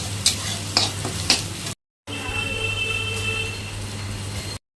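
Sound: onions frying with Kashmiri chili powder added

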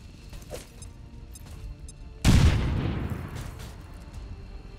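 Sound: frag grenade explosion in video game XCOM Long War

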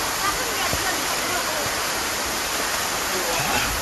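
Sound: flowing mountain stream in Gwacheon, Korea

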